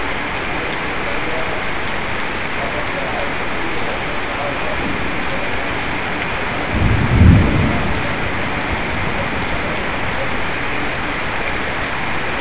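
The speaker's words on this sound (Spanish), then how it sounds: "de fondo pueden escuchar los truenos" Steady heavy rain hisses throughout a winter storm in Camoapa, Nicaragua, with one low rumble of thunder swelling briefly about two-thirds of the way through.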